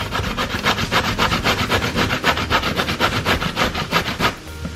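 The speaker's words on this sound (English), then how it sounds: "Now with the kamokamo, I'm just going to grate it." Kamokamo squash is grated for a smoked fish pie, with rapid, regular rasping strokes from a close, loud grater running steadily throughout.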